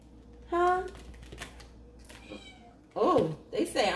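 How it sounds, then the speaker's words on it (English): A cat meows a few times, close and fairly loud, with brief pauses between calls and someone talking around them. "Oh, the kitty's like, meow."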